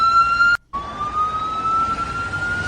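A wailing ambulance siren stuck behind trucks on a highway, its steady tone broken by a brief dropout before resuming, loud over road noise.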